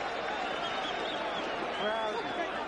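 Boxing arena crowd at the Felix Trinidad vs Hugo Pineda fight roaring and screaming in a steady, dense wall of noise, with a commentator talking over it throughout.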